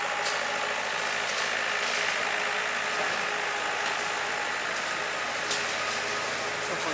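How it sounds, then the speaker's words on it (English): A tractor engine runs steadily beside a tree-lined sanctuary, a continuous mechanical clatter and hum with no speech, holding an even level throughout. "The noise from the tractor sends them up back in the tree."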